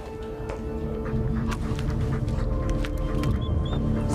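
A tracking dog picks up a scent, heard as faint whines and snuffling over a steady low background hum that continues throughout.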